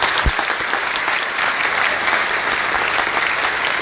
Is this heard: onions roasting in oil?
no